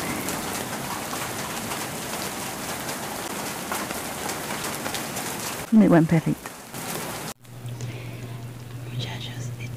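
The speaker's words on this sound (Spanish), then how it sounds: "Muchachos, está cayendo una lluvia torrencial." Torrential rain pours down steadily outdoors, a dense continuous hiss, briefly broken by a dog's close rustling and a short quiet gap, with soft talk over it.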